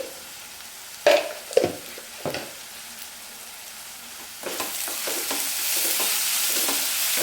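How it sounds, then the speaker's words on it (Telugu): Onion pieces fry in a pan, starting with a few sharp stirring clatters. A soft sizzle then grows into a steady, louder frying hiss toward the end. The sound is close, with no speech. "ఉప్పు వేయడం వల్ల ఉల్లిపాయ ముక్కలు తొందరగా వేగుతాయండి"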